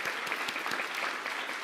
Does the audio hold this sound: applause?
yes